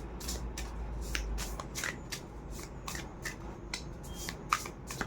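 Tarot cards being shuffled by hand, a steady run of crisp riffling snaps and soft slides close to the microphone, over a low background hum, with no talking.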